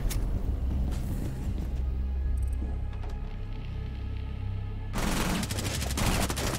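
Sustained gunfire in a shooter video game, a dense continuous rattle of shots with a sharper, louder burst near the end, no talk over it.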